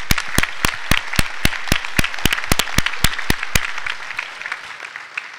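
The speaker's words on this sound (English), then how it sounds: "I think it's a big round of applause." An audience at a town hall meeting claps in a burst of sharp, distinct claps that thin out and fade over several seconds, leaving quiet room tone.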